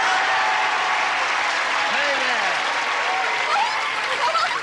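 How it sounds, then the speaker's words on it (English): Studio audience on a 1983 TV game show, Match Game Hollywood Squares Hour, gives a steady, dense round of applause with cheers, loud and continuous throughout; a voice briefly calls out over it. "let's get the audience to give us a brisk round of applause"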